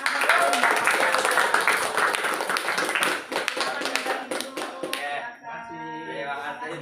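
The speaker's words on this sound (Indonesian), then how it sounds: "Beri aplaus yang meriah untuk sahabat" A classroom audience claps in a loud, dense burst of applause that fades after several seconds, with talk following.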